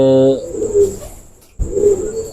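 Soft, low cooing of golden pigeons in two throaty phrases separated by a brief pause, fairly close.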